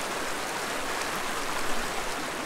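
A clear, rocky-bottomed brook trout creek in fall rushes with a constant hiss of flowing water, steady and fairly close, with no voices.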